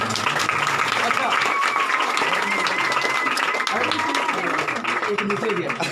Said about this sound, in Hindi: सारे ताली बजाएंगे